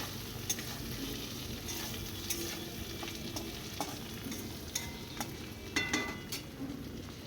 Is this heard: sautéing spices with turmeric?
yes